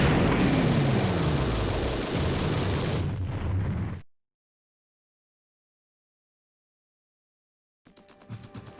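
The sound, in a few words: explosion of a destroyed shock troop stronghold in a video game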